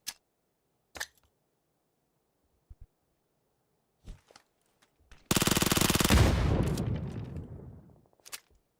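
Gunfire in a console battle royale game: scattered single cracks, then a loud sustained burst of rapid automatic fire lasting about three seconds that fades out, followed by another lone shot.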